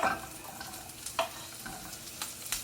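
Sausage heating in a pan gives a low, steady sizzle with scattered light clicks and scrapes, close and fairly quiet, with no voices.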